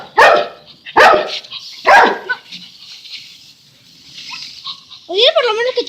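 Three loud, close dog barks a second apart, followed by quieter rustling and a whining, yelping dog call near the end, around a Zoomer robot dog.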